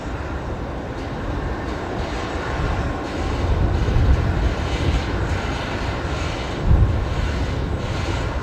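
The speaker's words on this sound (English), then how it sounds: "next inbound, Qantas 626 coming in from Melbourne here on runway left" Qantas 626 airliner arriving from Melbourne, landing on the left runway at Brisbane Airport: a steady, broad engine roar that swells in the middle and carries a low rumble, with no voices.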